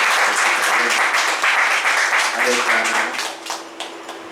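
A church congregation claps loudly after worship in a dense, continuous burst of applause, with overlapping voices underneath, that thins out toward the end.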